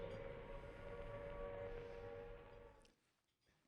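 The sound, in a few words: air raid siren in Trafalgar Square, archival recording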